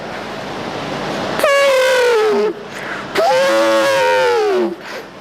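At a higher secondary school mimicry competition, a voice imitates an elephant trumpeting: two loud, brassy, wavering blasts, each about a second long, with a short pause between.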